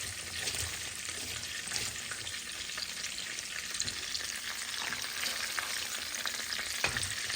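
Onions frying beside sardines in a pan give a steady, dense sizzle that holds even and close throughout, with a few light stirring scrapes mixed in and no voices.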